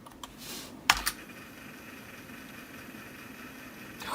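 A floppy disk drive reads a 720K DOS disk: a couple of sharp mechanical clicks near the start, then a long steady whirring hum, ending in a louder burst of drive noise, with no talk.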